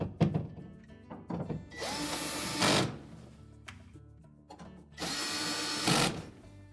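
Power drill driving screws into the lower air duct of a GE refrigerator during an evaporator fan motor replacement, two sustained whirring bursts of a couple of seconds each, close and loud, between quieter clicks and knocks.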